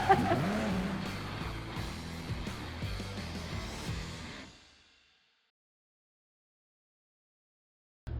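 Classic Dodge Challengers, among them a 1970 convertible, rev and drive off in a loud engine roar with a brief tire squeal, fading away until silence falls.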